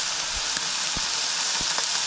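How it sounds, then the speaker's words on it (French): Food frying in a pan makes a constant, close sizzle, with a few soft knocks and taps mixed in and no speech. "Qu'on va se faire griller ça à la poêle."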